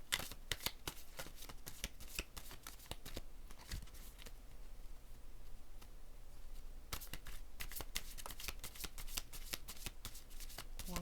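Tarot cards are shuffled by hand in quick, crisp riffling bursts, close and fairly quiet, with a short lull in the middle before the shuffling resumes.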